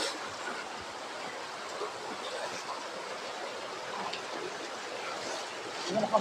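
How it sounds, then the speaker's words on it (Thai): Floodwater flowing through a street area like a small canal, a steady broad rushing wash heard at moderate distance with a few brief sharper splashes near the end. "มันกลายเป็นทางน้ำไหลผ่านเหมือนกับเป็นคลองย่อมๆไปแล้ว"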